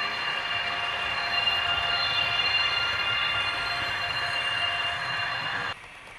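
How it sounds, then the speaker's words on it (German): Model trains roll around a display layout of historic train sets, giving a steady metallic running hum with faint wheel squeal that drops suddenly quieter near the end. "Auf dieser Schauanlage laufen historische Zugzusammenstellungen mit aktuellen Fahrzeugen."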